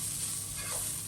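Turmeric, curry powder and smoked paprika sizzling with onions in a pan, a brief steady hiss of frying with a faint stir, no talk.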